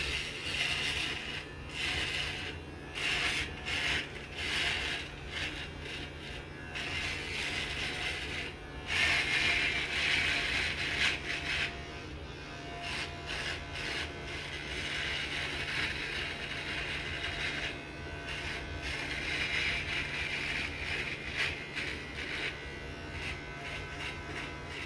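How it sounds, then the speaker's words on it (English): A MANSPOT groin and body hair trimmer buzzes steadily against a man's face as he shaves, a close, continuous electric whir that rises and dips in short strokes over about twenty-five seconds, with no talking. "I'm just going to shave my face"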